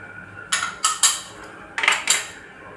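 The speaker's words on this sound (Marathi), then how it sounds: "ह्याला पण छान असं मिक्स करून घेऊया" Besan mixed with cardamom and nutmeg in a pan for besan barfi, heard as five sharp metal-on-pan clinks and scrapes in two quick bursts, close and fairly loud.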